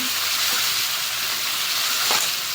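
A wet spice paste of ground cumin, ginger, coriander and ripe chilli frying in a pan, a close, steady sizzle with a couple of soft stirring scrapes and no talk.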